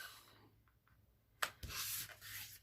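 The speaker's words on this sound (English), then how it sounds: "and burnish the edge" A folded edge of a white card base is burnished, a few faint taps followed by two short, close scraping rubs on the paper.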